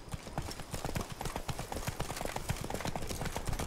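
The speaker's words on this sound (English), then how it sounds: "Run, Roach." Hooves of a galloping horse beat in a fast, steady clip-clop rhythm throughout, a game sound from The Witcher 3, loud and close with faint background sound mixed in.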